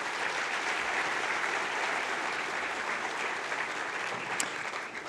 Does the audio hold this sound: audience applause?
yes